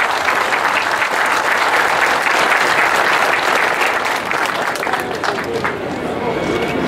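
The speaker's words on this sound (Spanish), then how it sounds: "Un aplauso al compañero José Luis Contreras Montes." A crowd applauds a former president of the Latin American labor lawyers' association at a Mexican union forum on the right to strike. The clapping is loud, dense and steady, lasting the full stretch with no break.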